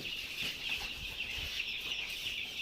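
Chickens cluck softly in a coop, faint and steady against a constant background hiss, with a few low murmurs under it.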